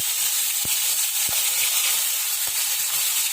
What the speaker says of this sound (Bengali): আর আমি ইলিশ মাছের মাথাটা ভেজে নেব।